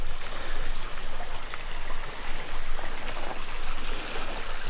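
A river rushes steadily through the forest of Cathedral State Park in Preston County, West Virginia. The close, constant, even flow of water fills the scene on its own, with no voices.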